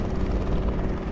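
Helicopter flying in the city-building game CityState II, a loud steady rotor drone with rhythmic low thumping that holds throughout without talk.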